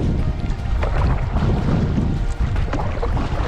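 A canoe is paddled against a strong wind, with heavy wind buffeting and rumble over the microphone and faint water sounds beneath, continuous and loud, with no speech.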